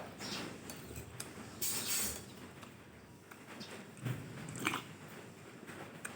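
Fresh vegetable leaves being bitten and chewed up close, with soft wet crunches and smacking in an irregular rhythm over a quiet room background.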